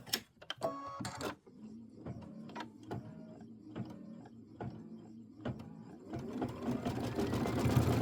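A sewing machine stitches Kimberbell Hello Sunshine traditional pieced quilt block pieces, with a few sharp clicks at the start, then a steady rapid mechanical whir that grows louder toward the end.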